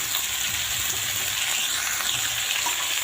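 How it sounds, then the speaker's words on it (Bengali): Mixed vegetables stir-fried in oil, a steady, close and loud sizzle with faint scraping of stirring throughout. "সবজিটা ভালো করে তেলের মধ্যে নেড়ে নেব।"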